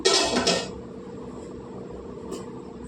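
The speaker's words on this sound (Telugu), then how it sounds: "మూత పెట్టుకుందాం" A lid clatters onto a cooking pot of simmering telagapindi curry with a short metallic clank and rattle, then settles into quiet, followed by a faint later tap.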